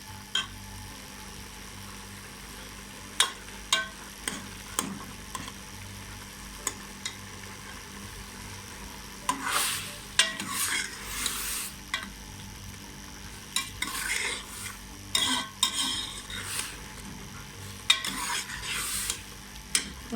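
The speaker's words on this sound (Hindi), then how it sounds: "इसको 10 से 15 मिनट के लिए ऑयल डालकर अच्छे तरीके से इसकी भुनाई करेंगे।" Bottle gourd and mutton stir-fried in oil for lauki gosht, with repeated spoon scrapes and knocks against the pan over a steady low sizzle, the stirring growing busier and louder in bursts toward the end.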